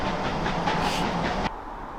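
Heritage steam train rumbling past on a Forest of Dean line, loud and close, with wheel clatter and a brief hissing swell before the noise cuts off sharply to quieter background.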